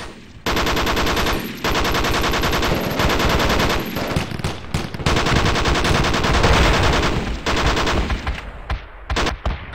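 A .50 cal machine gun in Project Reality fires long, loud, close sustained bursts with brief pauses, then breaks into shorter choppy volleys as the firing tapers off.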